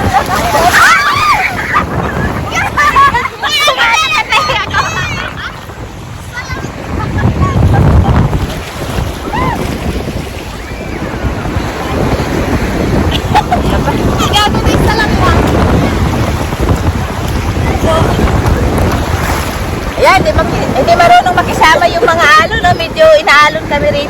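Strong sea waves slosh and crash against a moving boat near Boracay while wind buffets the microphone loudly throughout; people talk and laugh over the noise.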